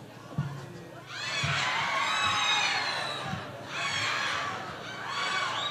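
A live concert audience at a ranchera show roars with shouting and cheering in two long sustained surges, loud and close, with high excited voices layered over a dense crowd wash.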